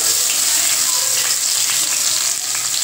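Steady, loud sizzling of finely chopped onion frying in hot oil, with crackles and faint stirring throughout and no talking.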